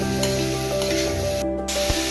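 Cabbage, carrot and beetroot fry in a pan with a continuous sizzle and the scraping of stirring. One brief quiet gap breaks the sound partway through, and no one talks.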